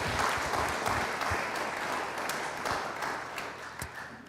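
A Unitarian Universalist Sunday congregation applauds steadily, a dense wash of many hands clapping throughout that fades slightly toward the end.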